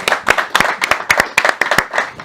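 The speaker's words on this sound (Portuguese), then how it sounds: "bate uma salva de palmas pro André." An audience claps in a quick, uneven burst of close, sharp handclaps lasting a couple of seconds, with no voices over it.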